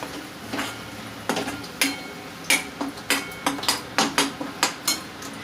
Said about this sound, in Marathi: आणि आता सर्व मसाल्यांना मी व्यवस्थित मिक्स करून घेणार आहे